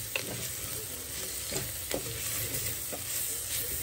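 Small bommidai fish fry in a little oil inside a clay pot, giving a steady close sizzle with occasional crackles and stirring scrapes, with no voices.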